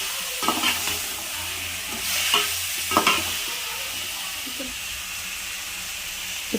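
Washed chicken goes into a hot pot for a chicken biryani and is stir-fried, giving a constant loud sizzle and hiss with a few scraping, clattering stirs near the start, close by and steady to the end.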